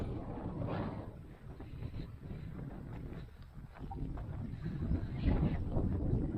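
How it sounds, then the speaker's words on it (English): Breezy wind gusts outdoors at a building site, rumbling and buffeting the microphone in uneven surges that build toward the end, with no talk. "It's pretty breezy out here today."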